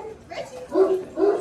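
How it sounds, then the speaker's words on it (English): A Great Dane gives deep, close barks, two loud booming woofs after a softer whine-like lead-in. "Quite the bark."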